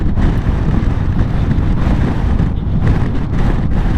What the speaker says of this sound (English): It's a little bit blustery today